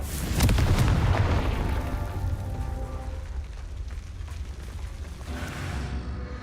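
A Confringo fire spell explodes in the Hogwarts Legacy video game, a deep booming blast that bursts loudly at first and then settles into a rumbling, crackling decay with no speech.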